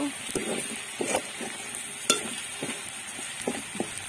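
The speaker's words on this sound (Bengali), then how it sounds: "এখানে হচ্ছে পেঁয়াজ বেরেস্তা করে নিচ্ছি মাংস কষানোর জন্য। আর এখানে হচ্ছে মুরগির মাংসগুলো হচ্ছে ভেজে নিচ্ছি।" Onions and chicken pieces frying in a pan, with a continuous sizzle broken by repeated clinks and scrapes of a spatula stirring against the metal at an irregular rhythm.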